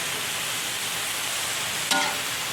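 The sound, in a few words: stir-frying pickled mustard greens with pork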